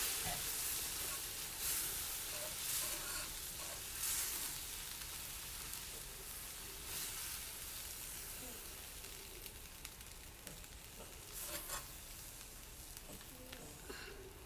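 Southern sausage gravy simmering and thickening in a pan, a steady close sizzling and bubbling hiss with occasional stirring scrapes and pops, continuous throughout.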